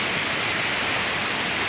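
A waterfall roaring as a dense, steady broadband rush heard from nearby, with no break and no other sound over it.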